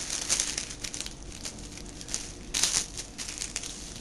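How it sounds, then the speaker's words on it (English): Two sheets of tissue paper are folded together while making a diaper cake, giving close, soft crinkling and rustling in uneven bursts, loudest near the start and again midway. "We're going to take 2 sheets of tissue paper together"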